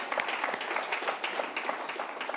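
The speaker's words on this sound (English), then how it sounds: "let's give them a round of applause" An audience at a renewable and hydrogen energy event gives a round of applause, a moderately quiet but continuous patter of many hands clapping.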